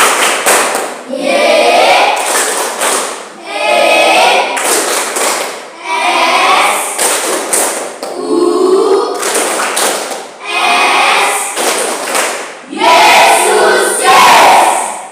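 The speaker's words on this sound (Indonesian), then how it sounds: "Tepuk Yesus" A class of children stands and performs the "Tepuk Yesus" clap cheer, loud rhythmic group clapping in bursts with chanted voices between, close and filling the room for the whole stretch.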